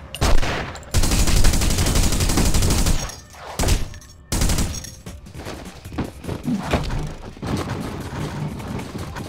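Gunfire in The Punisher video game: loud close bursts of automatic shooting and single heavy shots, broken by short pauses, with rattling weapon mechanics between volleys.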